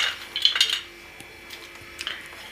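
A spoon stirs fruit custard ingredients in a bowl, with a quick burst of bright metallic clinks at first, then a few sparse, fainter taps after a quiet pause.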